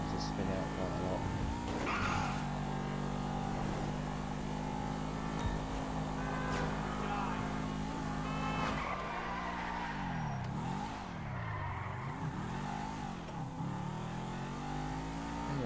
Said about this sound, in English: the back end's quite slippery on the Hijack. It seems to spin out quite a lot.